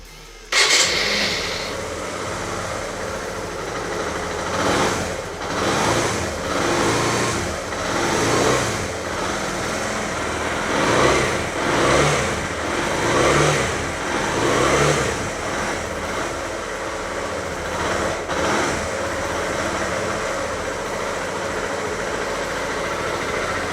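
A 2007 Suzuki Van Van 125 motorcycle with under 3,000 miles starts with a sharp catch, then its single-cylinder engine idles and blips through repeated gentle revs, steady and close, with no talking.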